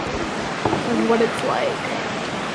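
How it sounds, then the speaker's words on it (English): Broadband rushing water from a river among rocks in a narrow canyon, steady and close, with a person talking over it. "We're going in and out of the rocks and the river."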